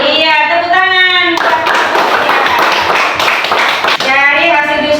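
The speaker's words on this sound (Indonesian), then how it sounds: "Iya, tepuk tangan." Students in a fourth-grade classroom clapping together in a short, rhythmic patterned burst, with children's voices chanting before and after it.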